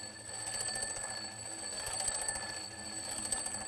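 An alarm clock rings steadily as it moves toward the listener, a continuous bright metallic trill with ringing overtones at moderate volume, heard alone without any voices.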